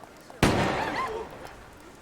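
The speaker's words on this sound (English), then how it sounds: "There was a gunshot." A single sharp gunshot in the Yakuza 4 video game: one sudden loud crack that fades into a brief reverberant tail.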